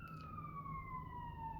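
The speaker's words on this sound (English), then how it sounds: "the ambulance is coming by" Distant ambulance siren passing by, a faint steady wail sliding gradually downward in pitch as it moves away, alone over a low background hum.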